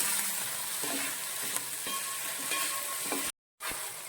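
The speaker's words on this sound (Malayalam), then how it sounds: "കുറച്ച് ഉപ്പും കൂടി ചേർത്ത് ഇത് നന്നായിട്ട് ഒന്ന് വഴറ്റിയെടുക്കാം" Okra (ladies' finger) sautéing with salt in a pan, a soft steady sizzle with light stirring scrapes close by, ending in a brief gap.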